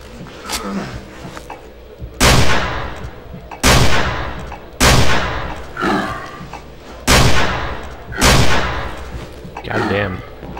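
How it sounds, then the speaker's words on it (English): Five loud gunshot bursts from pistol fire in the horror video game Cry of Fear, spaced roughly a second apart, each with a sharp crack and brief decay over a low ambient hum. "I wasted like all of that pistol ammo"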